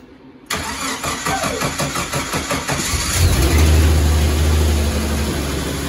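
A 1994 Jeep YJ with a dead battery cranks on a booster, a rapid rhythmic starter churn for a few seconds before the engine catches and settles into a loud, steady idle close by.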